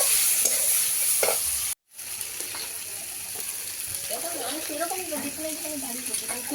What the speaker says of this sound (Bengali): এরপরে ভালো করে কষিয়ে নেবো একটু।